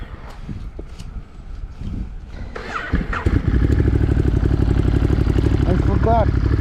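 A Ducati Monster 937 fitted with a GPshift exhaust cranks and fires up about halfway through, then settles into a loud, steady idle with a lumpy pulse. Voices and wind noise come before the start.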